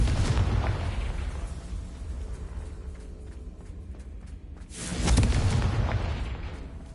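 Confringo spell blasts in Hogwarts Legacy, two booming explosions with rumbling low-end, one at the start and a louder one about five seconds in, over a steady game ambience with no talk.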